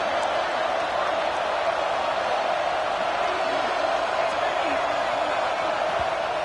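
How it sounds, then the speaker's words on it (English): Deafening stadium crowd roar at an LSU football game, a dense steady wash of cheering and noise that holds at high level throughout with no breaks. "this crowd is deafening"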